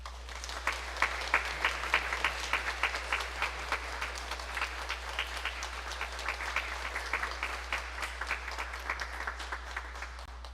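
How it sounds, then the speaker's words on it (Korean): A church congregation at a Sunday worship service applauds warmly for a scholarship presentation, a sustained wash of many hands clapping at moderate distance under a low steady hum, with no voices. "우리 새 친구에게 장학금 전달할 때 뜨거운 박수로 격려해 주시면 감사하겠습니다."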